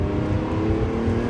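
A Lamborghini Aventador SVJ engine drones at partial throttle on a race track, a loud steady rumble held for a moment without talk.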